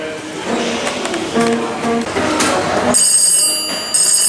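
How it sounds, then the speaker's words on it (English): A telephone in a red London-style phone box rings with a shrill electronic trill that starts partway through, after a stretch of background voices and general bustle. "when you ring that phone, this phone rings"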